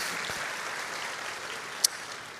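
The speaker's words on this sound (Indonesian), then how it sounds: "Berikan tepuk tangan kita kepada Tuhan kita." A church congregation claps together for God during a sermon, a dense, steady wash of applause heard from within the room, with no talking.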